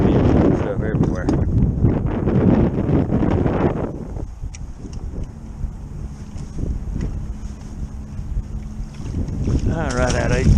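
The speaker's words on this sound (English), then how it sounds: "Wind blowing me so hard." Strong gusty wind roars across the microphone on a creek while trout fishing, loud and buffeting for the first few seconds, then easing into a lower steady rush before gusting up again at the end.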